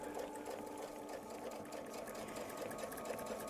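A sewing machine runs steadily while stitching a honeycomb quilt template, its fast even mechanical whir continuing close and unbroken.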